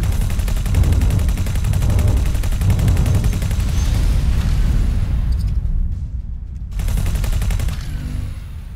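Rapid weapon fire in a space battle in X4: Foundations, dense bursts of crackling shots that rattle on steadily, briefly drop out, then resume, loud and close with no talk.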